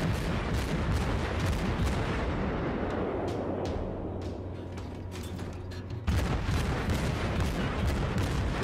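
High-explosive shells hitting a battleship in World of Warships, a continuous roar of booming naval gunfire and explosions that dips briefly and then returns loud and dense.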